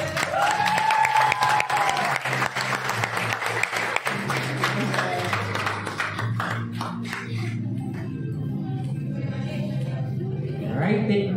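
An audience at a Philippine healthcare class candle-lighting, pinning and send-off ceremony applauds an academic excellence award winner, a full, sustained burst of many hands clapping that gradually thins and fades toward the end, with some voices underneath.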